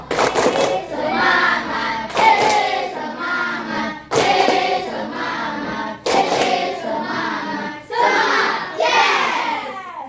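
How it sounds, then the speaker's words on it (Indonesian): Children in a classroom perform a new 'tepuk semangat' clapping routine, chanting phrases in regular bursts about every two seconds, each opening with sharp claps. "Tepuk semangat baru"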